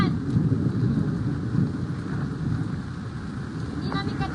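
Rain falls in a steady broad hiss while deep thunder rumbles roll through underneath, loud and sustained, with faint scattered higher sounds toward the end.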